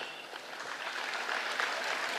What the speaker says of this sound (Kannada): ಜೋರ್ ಚಪ್ಪಾಳೆ ಕಲಾಂ ಅವ್ರಿಗೆ